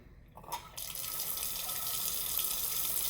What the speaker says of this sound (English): When I turn on the water here